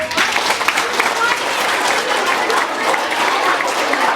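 Elementary school assembly audience giving a round of applause, a loud crowd of clapping mixed with cheers and voices throughout.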